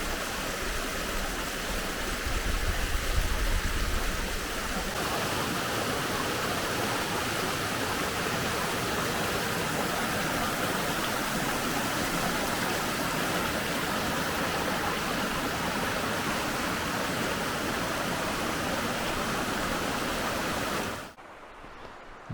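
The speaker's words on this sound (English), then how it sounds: "Here we are at our first little waterfall of the day. Just a little multi-step cascade" A small multi-step waterfall cascade along Cedar Run in Shenandoah National Park pours as a continuous broad rushing hiss, steady and close, before cutting off near the end.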